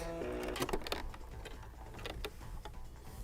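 A sewing machine fitted with a double piping foot back stitches, a short run of rapid mechanical ticking and whirring heard close and fairly faint.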